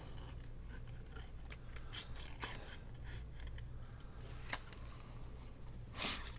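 Scissors snipping around small pine cone and cotton ball shapes cut from paper scraps, giving quiet, close, irregular crisp cuts and light paper rustles, with several sharper snips spaced apart.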